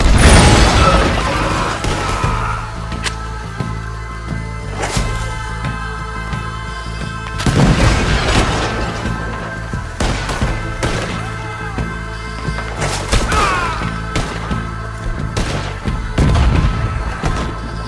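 Gunfire rings out in the video game Red Dead Redemption 2: loud, sharp shots and booming blasts arrive in irregular bursts and volleys over a shootout, with echoing tails between them.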